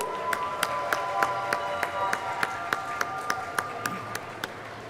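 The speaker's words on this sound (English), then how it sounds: "If you can hear my voice, clap 3 times." Audience at a robotics competition event clapping in sharp, evenly spaced single claps repeated in a steady rhythm over a continuous crowd hum, with a voice talking in the background.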